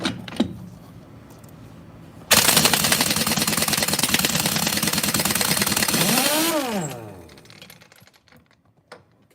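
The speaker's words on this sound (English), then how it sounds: "We're gonna pop these lug nuts off." An impact wrench pops the lug nuts off a car wheel, a loud sustained rattling burst of about four seconds that winds down, with a brief knock before it and quiet afterward.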